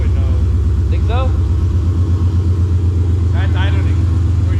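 A Ford Coyote V8 swapped into an SN95 Mustang idles steadily on first start, a loud, even low rumble with a fast regular pulse throughout, while people talk briefly over it.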